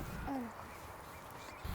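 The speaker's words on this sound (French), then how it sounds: "Tadorne de Belon, c'est le plus gros canard d'Europe en fait." A common shelduck calls once, a short nasal quack-like note, heard at a distance across the Hyères salt marshes over a steady breezy outdoor background.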